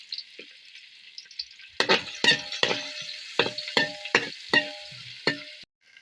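Coconut pieces frying in hot coconut oil in a pan, a loud sizzle broken by a run of sharp, regular spatula scrapes and clacks close by.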